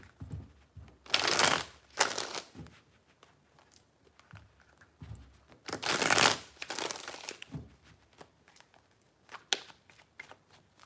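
A deck of tarot cards is shuffled three times, each shuffle a brief crisp riffle of rustling card noise, with quiet handling and soft tapping between bursts.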